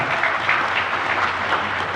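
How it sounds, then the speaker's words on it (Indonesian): Audience clapping at a cooperative launch event, a dense, even patter of applause sustained throughout at moderate loudness. "Boleh tepuk tangan dong buat koperasi kita."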